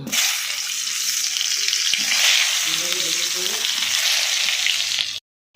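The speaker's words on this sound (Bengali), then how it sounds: "এবার আমি বেগুন ভাজা তুলে দিচ্ছি" Brinjal slices fry in hot oil for a Vishwakarma puja meal cooked at a factory, a strong, even sizzle with a few stirring scrapes, ending abruptly in silence.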